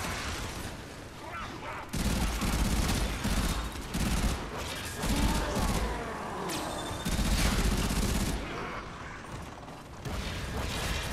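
Gunfire rings out in a Warframe co-op fight against the boss General Sargas Ruk, with loud bursts of rapid shooting that stop and start amid mechanical clanks and in-game effects.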